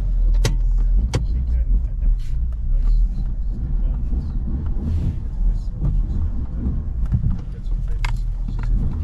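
A car is driven into a repair shop, its steady low rumble running throughout with scattered clicks and knocks, and faint muffled voices underneath.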